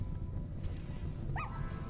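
A dog barks once in the video game RimWorld, a short single yelp heard over a steady low game background hum.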